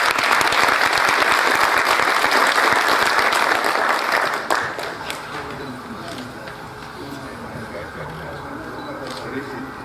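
At an official Brazilian heraldry and humanities ceremony, a large audience claps loudly and densely for about four seconds, then the applause drops off sharply, leaving scattered claps under a speaker's voice and room murmur.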